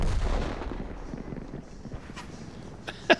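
Tank cannon fire in the online game World of Tanks, with low rumbling battle noise throughout and one sharp, loud shot near the end.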